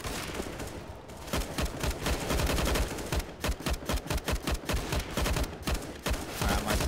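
Rapid bursts of automatic gunfire from a CS:GO match come in tight clusters and rattling sprays, loud and close, with brief gaps between volleys and no talk.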